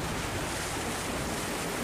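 A fishing boat heads out to sea off Phu Yen, Vietnam, crashing through waves, heard as a steady, close roar of rushing water and wind noise with no speech.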